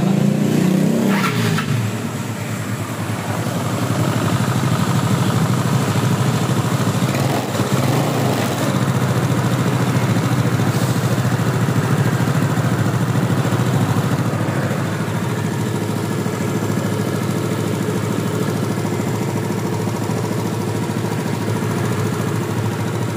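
A Yamaha Mio scooter that previously smoked and ran rough starts up and settles into a loud, steady idle, close by and continuous with no talking.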